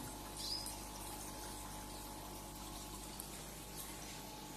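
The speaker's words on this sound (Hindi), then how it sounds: "पानी भी फिल करने वाला हो गया है, तो उसके बाद फिर मैं इसमें पानी भी फिल करता हूँ" Water runs steadily into a new aquarium tank being set up for fishless cycling, a continuous soft pouring and trickling wash that stays fairly faint and even throughout, with no talking.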